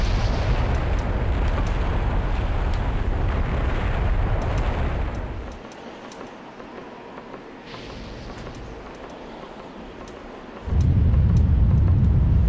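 A bomb goes off in Zelda: Wind Waker on the volcano climb, a long rumbling roar that dies to a low hiss, then a second deep blast surges back at the end, loud and alone.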